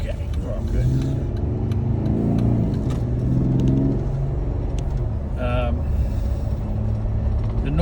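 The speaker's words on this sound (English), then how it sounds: "The engine sounds abnormally loud. It's got a K&N performance unit under there," A loud car engine fitted with a K&N performance intake rumbles and revs steadily near the microphone, with a person talking over it.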